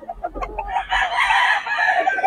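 A rooster crows loudly among a crowd of chickens clucking at a poultry market, the calls overlapping in a busy, close-up chorus.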